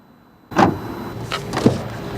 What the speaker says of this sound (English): I can just use my phone to unlock the car